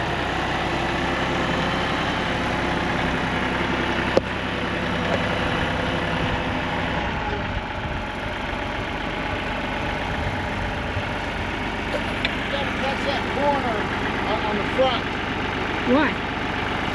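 A tractor engine idles nearby on a farm, a steady, continuous mid-to-low drone holding even for the whole stretch, with a small knock partway through and slight shifts near the end.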